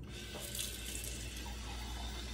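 Water runs steadily into the reservoir of a home coffee machine for a couple of seconds, a close, even trickling pour with no voices.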